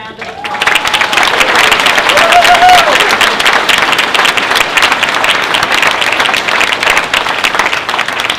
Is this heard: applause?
yes